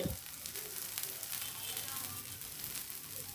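Onions frying in ghee on top of a crisp dosa give a steady, close sizzle that runs unbroken throughout, with no talking over it.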